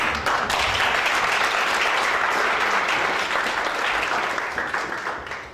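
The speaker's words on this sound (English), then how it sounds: "that, ladies and gentlemen, deserves a better round of applause" An audience at a student representative council inauguration ceremony gives a loud, sustained round of applause, dense clapping holding steady before easing slightly at the end.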